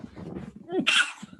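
A person sneezes once, a sharp, close burst standing out after a short stretch of quiet murmuring voices.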